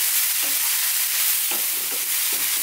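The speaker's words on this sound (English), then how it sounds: "Going to continue frying again." Cauliflower and spices fry in a pan for a vegan cauliflower fried rice, a steady close sizzle broken by several soft scraping stirs of a spoon against the pan, no voices.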